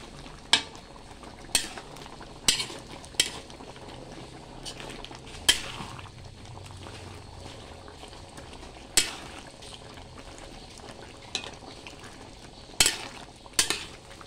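A spoon stirs tomato paste in a cooking pot, with soft scraping and sharp metallic clinks at irregular moments against a quiet simmering background, close and alone.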